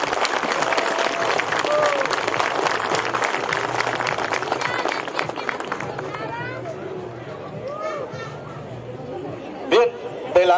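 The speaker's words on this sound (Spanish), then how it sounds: "Venga el aplauso fuerte a este momento histórico para Jacaltenango." Crowd at a medal award ceremony in Jacaltenango applauds steadily and loudly for about seven seconds, the clapping thinning into scattered claps and murmuring chatter, with a few louder bursts near the end.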